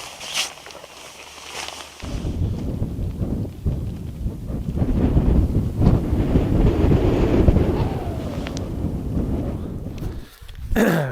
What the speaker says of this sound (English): that wind's coming in, it's a bit chilly